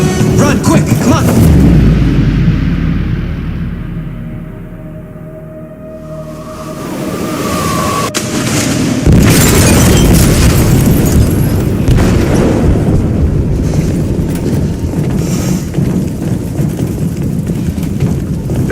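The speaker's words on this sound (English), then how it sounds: "They detonated an explosive in the hold. The ship is sinking, sir." An explosive detonates in a ship's hold in Detroit: Become Human, a loud deep blast that rumbles on, followed by sustained roaring and crashing as the vessel is rocked.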